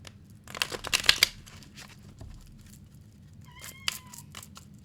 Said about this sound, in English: My cat, you hear my cat meow, and he's mad at me because he wants to go outside